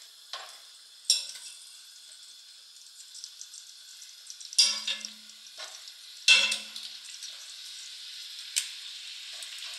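Pork filet mignon browning in butter in a hot pan, a steady soft sizzle broken by a few sharper crackles and spatters, heard up close with no talking.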